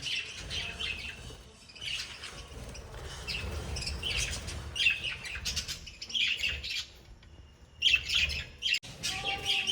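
Bright chirps and squawky calls from a group of budgies, busy and overlapping, with a low rumbling background underneath.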